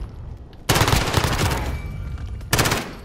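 Rapid automatic gunfire in a Call of Duty Modern Warfare 3v3 Gunfight match: a loud, close burst of fast shots lasting almost two seconds, then a second short burst after a brief pause, with no talking.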